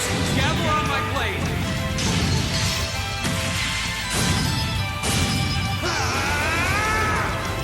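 Combat strike landing on an enemy in the turn-based RPG Legend of Heroes: Trails of Cold Steel, a loud smash-crash impact repeated several times amid continuous game music and battle effects, with a player talking over it.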